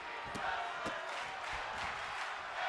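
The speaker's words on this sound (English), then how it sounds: "Fans definitely cheering for this tag team match here." Crowd cheering at a tag team wrestling match in WWE 2K25, a steady roar of fans with a few sharp hits and shouts rising through it, with a commentator's voice running over the top.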